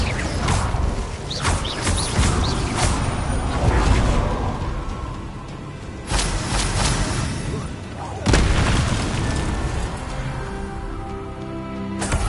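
Spell-casting effects in the Hogwarts Legacy video game, including an Incendio fire spell, come as repeated booming whooshes and bursts with a dense rumbling roar between them, loud and close, with a voice shouting spell names at times.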